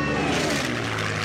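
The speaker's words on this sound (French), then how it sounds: "Le bruit d'un moteur Merlin, pour moi, c'est une très belle musique." A Rolls-Royce Merlin piston engine on a WWII aircraft gives a loud, close, continuous propeller drone that holds steady for about a second with no speech over it.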